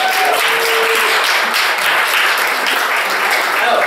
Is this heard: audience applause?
yes